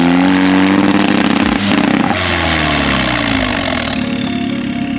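An Audi RS3 sweeps past at night, its engine note loud as it approaches and then dropping in pitch as it pulls away down the road, with other car noise around it.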